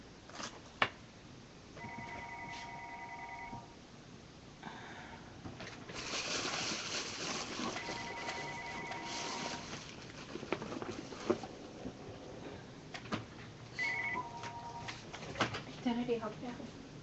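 A telephone rings in repeated electronic bursts, three separate rounds spaced several seconds apart, over a busy background with voices and general room noise.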